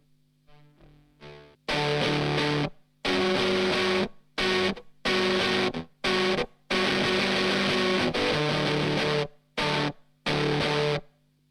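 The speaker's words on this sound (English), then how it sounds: "this is practically gated fuzz" Electric guitar through an Akkusativ gated fuzz pedal, loud saturated chords cutting off abruptly into silence between bursts, giving a choppy start-stop rhythm of about ten fuzzy blasts after a quiet opening.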